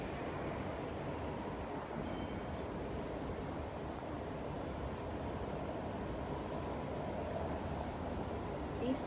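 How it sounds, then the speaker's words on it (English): A tram passes along a Melbourne street, a continuous broad rumble of wheels and city traffic noise that holds steady and loud throughout, with faint higher squeals now and then. "Oh, here comes a tram."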